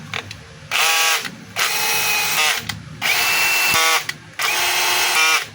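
A DeWalt DCD7781 cordless hammer drill runs in four loud, whining bursts of about a second each, separated by short pauses, close by with no talk.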